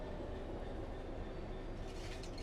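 A Class 66 diesel locomotive running in Train Simulator: a steady, dense rumble with continuous rail and wagon noise, loud and unbroken throughout.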